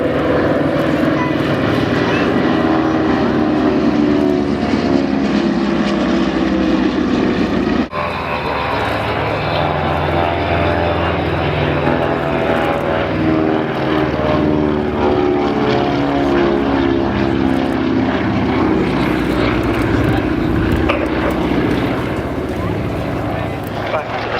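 A propeller aircraft at the Duxford airshow drones steadily overhead, its engine a continuous loud hum with a throbbing beat, staying close throughout with a brief dip midway.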